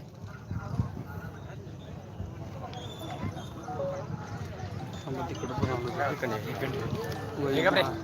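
Bullock cart race at Pattankudi, with the bulls' hooves clattering in a fast, steady run under loud crowd noise and people shouting and talking throughout.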